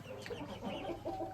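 Young black Australorp roosters clucking at close range, a short run of soft, overlapping clucks and low calls from several birds.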